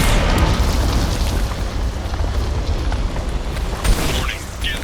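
Rumbling explosions from Geth cannon fire in the video game Mass Effect, a dense, loud, continuous roar of blasts and debris with a stronger boom toward the end.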